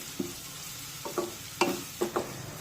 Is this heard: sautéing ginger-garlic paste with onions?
yes